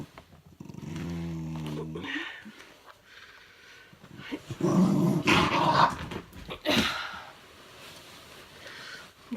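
Close dog growling in a home, a low sustained rumble that breaks into louder snarling bursts, then quiets to softer grumbles and whimpers.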